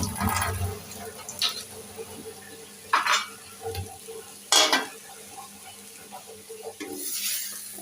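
Fried potato bhaji scraped and lifted from a hot pan, with a low sizzle broken by several sharp metallic scrapes of a spatula against the pan, close and moderately loud.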